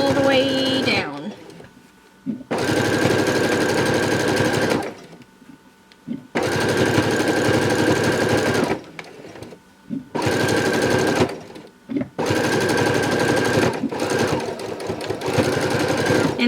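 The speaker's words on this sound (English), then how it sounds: "you're just going to sew it all the way down" A sewing machine sews a fabric ruffle in repeated loud bursts of rapid whirring stitching, each a few seconds long, separated by short pauses and brief handling sounds.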